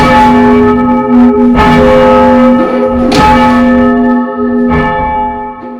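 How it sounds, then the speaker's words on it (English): Church bell at St Peter's, Cradley being rung down, sounding loud and close: a sustained ringing tone with several strong strikes spaced a second or two apart, each swelling and fading over the continuous hum. "we've got to ring the bell back down so that it's the right way up"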